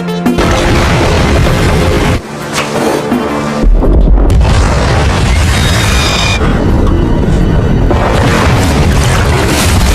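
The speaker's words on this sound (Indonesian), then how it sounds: "sehingga gunung pun meledak" A mountain explodes in a fantasy battle scene, heard as loud, deep booms and rumbling crashes layered over a dense, dramatic cinematic score that drops out briefly before surging back.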